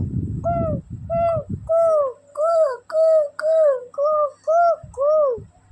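A voice mimics an Asian koel call, repeating a rising two-note whistle about nine times in a steady rhythm, close and clear after a brief rustle.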